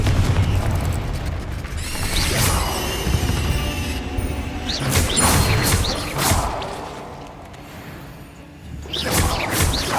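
Explosive spell blasts in the game Hogwarts Legacy, loud booms and crashes with whooshing bursts repeating every couple of seconds over a dense rumbling background of combat effects.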